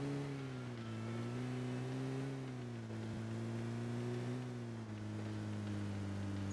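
A car engine in PUBG Mobile hums at a steady, sustained pitch with slight rises and dips as the vehicle drives, loud and continuous with no voices.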